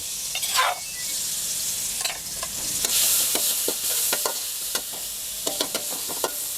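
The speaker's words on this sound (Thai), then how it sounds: "พอน้ำมันร้อนแล้วเราก็ นำพริกแกงที่เราตำไว้นะครับ ลงไปผัดให้หอมก่อนเลย" Pounded Thai curry paste stir-fries in a little hot oil in a pan over medium-low heat, with a continuous soft sizzle broken by repeated scraping clicks of a spatula, close and fairly quiet.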